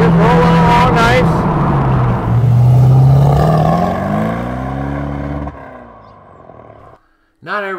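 A 1971 Triumph TR6 sports car engine drones steadily at cruising speed in fifth gear, its pitch slowly rising and falling, with a voice briefly heard at the end.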